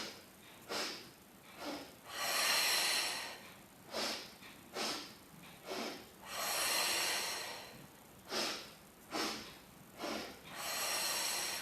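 Sharp sniffing inhales during a Pilates exercise with a towel and weights, bursts of three quick sniffs alternating with longer exhales in a steady rhythm, close and breathy, with no talking.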